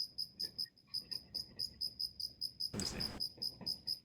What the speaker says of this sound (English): Brad, I can hear the crickets.